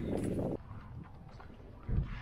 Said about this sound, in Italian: È ritornato il vento, quindi approfittiamo per fare due parole per valutare anche la rumorosità dei due microfoni